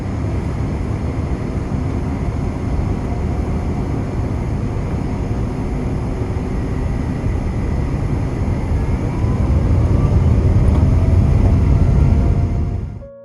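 Gulf Air Boeing 787 airliner taking off from Dubai, a loud steady cabin roar of engines and rushing air that swells louder toward the end before cutting off.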